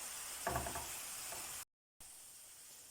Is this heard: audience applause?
no